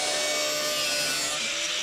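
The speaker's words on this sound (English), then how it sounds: "I've been able to run that carbide right up and down and trim it." A carbide tool trims a metal bracket during a Cummins engine swap into a 1963 IH Loadstar, giving a steady, close, high-pitched grinding rasp without pause and no voices.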